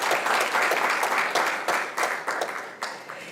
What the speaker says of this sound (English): kindly help me by clapping.